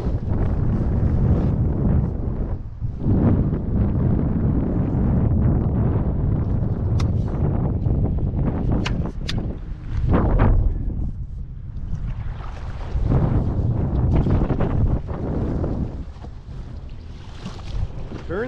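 Steady wind buffeting the microphone on open water while paddling a canoe with a double-bladed paddle, a continuous loud rushing roar with faint water and hull sounds beneath, no talking.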